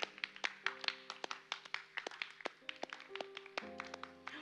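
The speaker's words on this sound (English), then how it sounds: "Applause, please." A small audience at a student club event at a performing arts festival claps in sharp, separate hand claps with sustained musical tones underneath, fairly faint and without voices.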